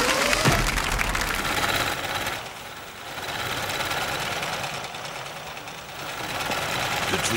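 A sewing machine runs with a steady, dense mechanical whirr and clatter, loud and near, dipping briefly in the middle before resuming.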